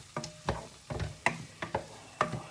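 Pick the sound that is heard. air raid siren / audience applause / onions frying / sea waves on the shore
onions frying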